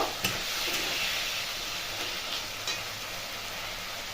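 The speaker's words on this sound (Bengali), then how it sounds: "এরপর এখানে আলু দিয়ে দেবো। আলুটা কষে নেব।" Potatoes frying in hot oil and spices for a vegetarian cauliflower and potato curry, a steady broad sizzle with a few light stirring scrapes near the start, close and even throughout.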